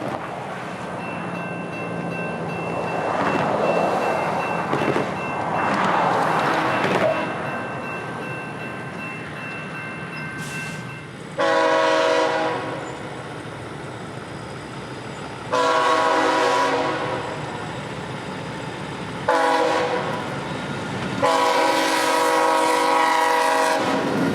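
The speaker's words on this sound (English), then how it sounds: "today I'd finally see a train pass" CSX train passing on the Brooksville Subdivision of the old Seaboard line, with steady rumble and rolling noise throughout. Several long, loud horn blasts sound near the end, close to the listener.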